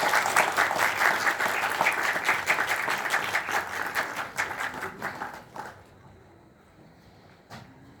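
Applause from an audience at a startup press meet for Clensta, a dense wash of clapping that fades out after about five seconds, leaving a quiet room with one stray clap.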